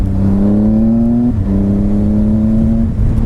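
A 2018 Triumph Speed Triple RS motorcycle accelerates hard with a steady rising engine drone, cut briefly by one quick-shifter gear change before climbing again, loud and close.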